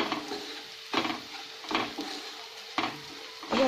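Coriander, red chilli and turmeric powders stirred into fried onions in a pan, a spoon scraping in regular strokes about once a second over a steady close sizzle, with no talking.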